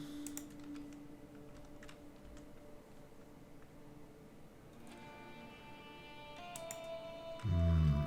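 Soft, quick computer mouse clicks while playing Crusader Kings 3, scattered light ticks at low level over a quiet background hum, with no voices.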